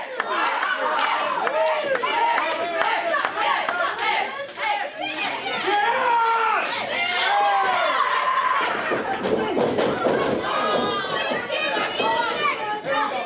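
A packed crowd roars and cheers throughout at a capacity independent wrestling show in an arena, loud and continuous with shouts and high-pitched kids' voices rising above the din.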